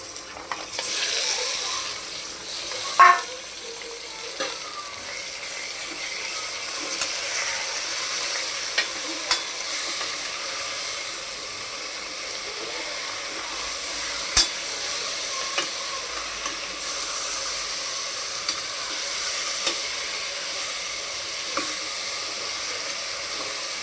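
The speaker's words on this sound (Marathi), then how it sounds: "हे बघा, कांदा मस्त फ्राय झाला आहे. चला, आता आपण त्याच्यामध्ये मटण टाकून घेऊया." Onion and mutton fry and sizzle in a pan with a steady hiss, broken by scraping stirs and light clinks of a spoon against the metal, close and continuous, with no talking.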